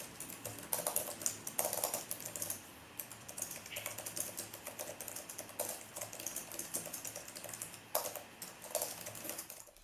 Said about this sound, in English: the laptop features the Cherry Switch mechanical keyboard. It feels really smooth to type on